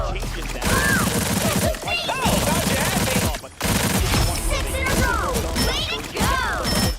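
Rapid weapon fire and crashing impacts from the hero shooter Marvel Rivals, loud and dense with bursts across most of the span, a brief gap near the middle, and a voice talking underneath.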